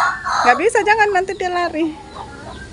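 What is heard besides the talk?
chicken clucking while being caught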